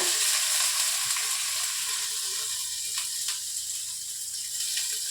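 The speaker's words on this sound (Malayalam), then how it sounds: "ആദ്യമായിട്ട് ഞാൻ ഒലിവ് ഓയിൽ ഒഴിച്ചു കൊടുത്തേക്കാണ് ഇനി ഈ പാനിലേക്ക് കുറച്ച് ഗാർലിക് സ്ലൈസ് ചെയ്തത് ഇട്ട് കൊടുക്കാണ്" Sliced garlic frying in olive oil in a pan, a steady close hiss of sizzling oil running the whole time with occasional faint clicks of a utensil.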